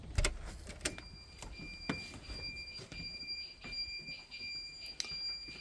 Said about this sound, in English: the alarm panel is beginning its countdown